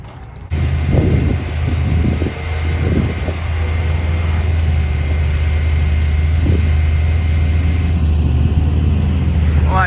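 Cars line up at a no prep drag race on the Black Top Bounty series, a loud, steady low engine rumble with wind buffeting the microphone and a few rising revs near and far.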